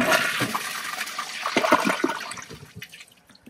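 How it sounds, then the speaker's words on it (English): An American Standard toilet flushes with a loud rushing gush of water that swirls down and tapers off into quieter trickling over a few seconds. "Second flush."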